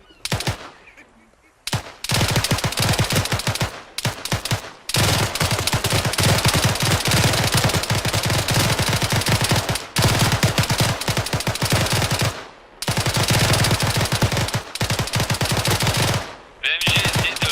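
A machine gun in a military video game fires long, loud, continuous bursts, with brief gaps separating the volleys throughout.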